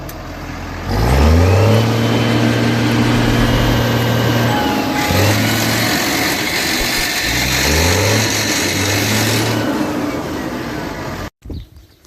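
A New Holland 7030 tractor's diesel engine revs hard several times, rising and holding high then dropping and climbing again, loud and close, before cutting off abruptly near the end.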